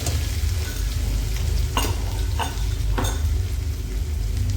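Whole spices with coarsely crushed ginger, garlic and chili frying in a pan give a steady close sizzle, broken by about three brief stirring scrapes.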